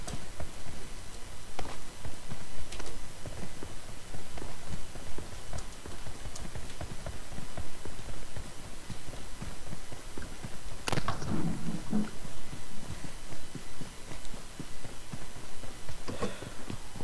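A horse gallops in PUBG Mobile's Payload Mode, its hoofbeats running as a steady rapid patter throughout, moderately loud amid game ambience, with a brief louder burst near the middle.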